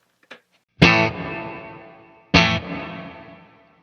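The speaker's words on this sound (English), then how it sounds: "it's going to add a small amount of delay in there, just a small space before the reverb kicks in" An electric guitar played through a reverb pedal with its pre-delay turned all the way up: two loud strummed chords, each with a brief gap before a long, lush reverb tail rings out and slowly fades, with no talking.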